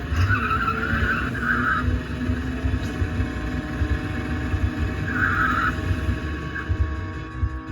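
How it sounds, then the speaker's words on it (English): Tires of a car in the arcade racing game Chase H.Q. skid in two squealing bursts over a constant engine drone, loud and synthetic. "And surely I shouldn't be skidding."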